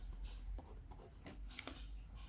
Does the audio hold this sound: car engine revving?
no